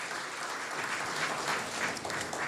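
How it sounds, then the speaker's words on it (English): Sustained applause from a sizable crowd at a cabinet ministers' swearing-in ceremony, a dense steady patter of clapping with no pauses. "let's give a round of applause"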